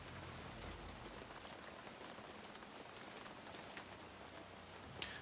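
Steady rain falls in the War Hospital video game, a soft, even hiss of drops on surfaces that stays quiet and constant with no voices.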